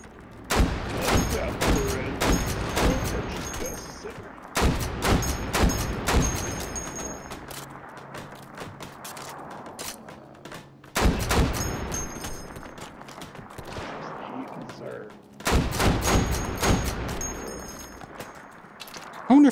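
Loud clusters of rapid gunshots from a gun in the VR game Hot Dogs, Horseshoes & Hand Grenades come in several distinct bursts separated by short pauses, each volley sharp and close.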